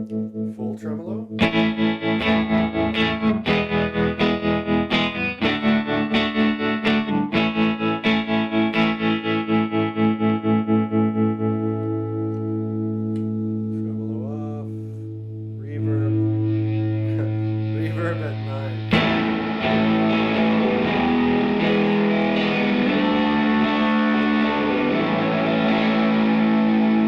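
Electric guitar played through a 1964 Gibson Falcon tube amp with its tremolo at full depth, loud and close: strummed chords pulse in a fast, choppy throb, then a few sustained notes swell and fade before the strumming picks up again.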